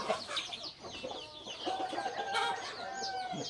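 Chickens and roosters at a Thai gamecock breeding farm cluck and call back and forth, several birds close by with overlapping bursts and a longer drawn-out call, and no one speaking.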